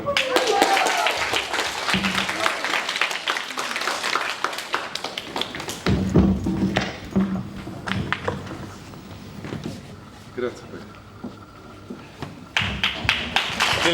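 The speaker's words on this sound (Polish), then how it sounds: "Wielkie brawa dla wszystkich laureatów i uczestników." Audience applause for poetry and prose award winners at a ceremony, with scattered rhythmic clapping, taps and thumps continuing throughout, and voices talking in the background.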